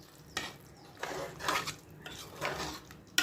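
Metal clanks and scrapes of a pressure cooker lid being handled and opened after cooking country chicken, a few separate clatters, fairly faint.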